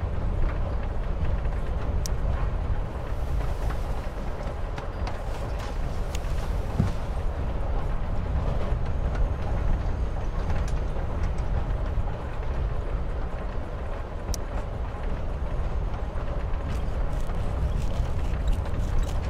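Inside a moving train carriage in the game Life Is Strange: Before The Storm, a continuous low rumble and rolling hum hold steady, with faint rattles and occasional light clicks over the top.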